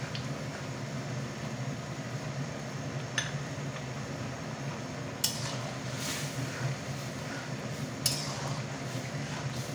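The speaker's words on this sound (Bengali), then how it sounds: "মশলাটা ভালো করে মিশিয়ে দেব।" A spoon stirs spice paste into a thin green-banana curry in a pot, giving sparse metallic clinks and scrapes against the pot over a steady background hiss.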